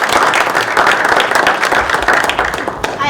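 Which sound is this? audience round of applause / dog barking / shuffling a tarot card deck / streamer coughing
audience round of applause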